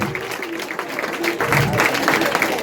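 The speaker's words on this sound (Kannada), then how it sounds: "ಚಪ್ಪಾಳೆ ಬರಲಿ." Audience applause at a children's award ceremony held at an Anjaneya temple, steady clapping from a crowd lasting throughout, with some voices mixed in underneath.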